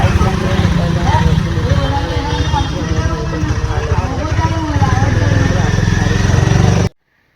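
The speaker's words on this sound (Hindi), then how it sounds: "हस्बैंड बाइक लेके निकल रहा है" A motorcycle engine runs steadily and loudly for about seven seconds as a man rides off on his bike, with a continuous low rumble, then cuts to silence.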